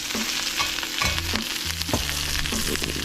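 Ingredients toast and sizzle in a pan while venison shanks are being cooked, a close, crackling fry broken by scraping stirs and brief bursts.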